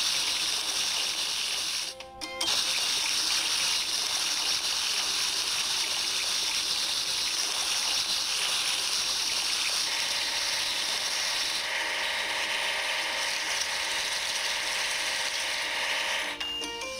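Water gushes steadily over a toy digging machine, an excavator being washed, with a continuous close spray that breaks off briefly near the start and then runs on without voices.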